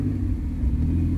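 A Chevrolet Corsa Wagon 16v engine rumbles loud and close, a steady mid-pitched drone with a slight rise in revs and no talking.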